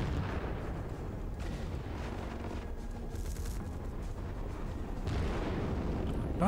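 Dense, continuous rumbling barrage of heavy mech weaponry firing in MechWarrior 5: Mercenaries, loud and sustained with a swell of blasts near the end, no talking over it.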